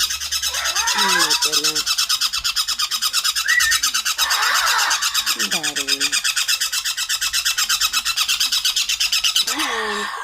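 A pet conure parrot lets out repeated sharp squawks and screechy calls in a home, loud and close, with a person briefly speaking in between.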